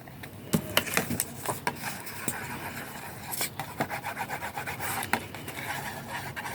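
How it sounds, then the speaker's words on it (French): A wet wipe scrubs over a scrapbooking surface in short, close rubbing strokes with a few sharp taps and clicks, at first irregular, then settling into a fast, repeated back-and-forth rhythm near the end. "Je vais prendre une lingette. va nettoyer tout ça."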